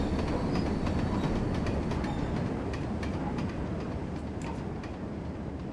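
A long train rolls past in the video game Train Sim World on the Tees Valley Line, a loud continuous rumble with clattering wheel clicks that fades slightly toward the end.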